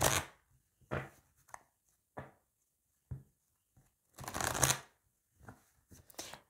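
A deck of tarot cards gets shuffled close up in a quiet room, with several short riffling bursts separated by silences and one longer flurry near the end.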